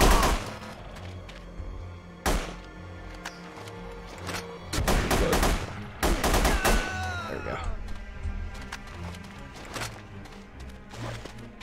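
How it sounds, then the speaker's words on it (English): Gunfire in The Punisher video game: repeated loud shots and rapid bursts hit across the scene, some clustered closely, over a continuous background of game ambience and effects. "Gunfire probably alerted the whole island by now."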